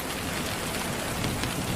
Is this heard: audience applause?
no